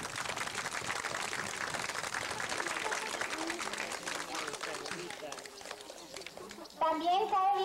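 Audience applause at a primary school graduation ceremony in El Jaral, a loud sustained wash of crowd clapping that thins toward the end before a voice cuts in.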